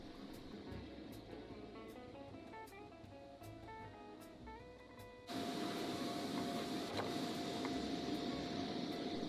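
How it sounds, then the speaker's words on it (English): A CNC machine in a Sabae eyewear factory cutting acetate eyeglass temples from sheets, a steady mechanical whir with shifting pitched motor tones, then a louder, harsher cutting drone for the second half. "Temples are cut in rows of 2s out of sheets on the second CNC machine."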